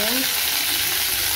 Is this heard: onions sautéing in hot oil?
yes